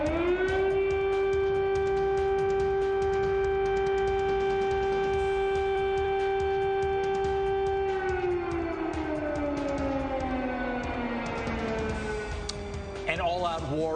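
An air raid siren in Ukraine holds a long steady wail, then slowly falls in pitch while another tone rises, loud and continuous across the whole stretch.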